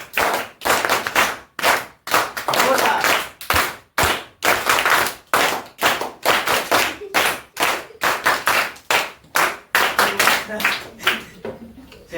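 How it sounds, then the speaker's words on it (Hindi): A class of students claps loudly in unison, a royal clap done five times, giving a long run of sharp, evenly spaced group claps that fill the room in rapid bursts with brief pauses between sets. "एक बार जोरदार रॉयल ताली बजाएंगे 5 बार"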